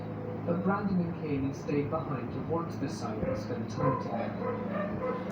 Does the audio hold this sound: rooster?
no